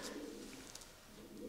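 Racing pigeon cooing softly in low, throaty murmurs, faint and close, repeated at the start and end with quiet room noise between.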